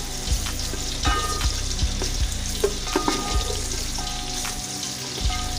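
Two onions frying in hot oil in a pan, a steady close sizzle punctuated by repeated sharp spatula knocks and scrapes against the metal at irregular intervals.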